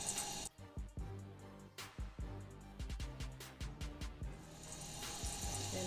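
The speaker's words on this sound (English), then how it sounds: "So I wet the sponge again, and I just lather it up on the soap bar." Running water at a bathroom sink as a makeup sponge is wetted and rubbed against a bar of soap, with a steady faucet hiss broken by irregular squelching, splashing handling noises, heard close and alone.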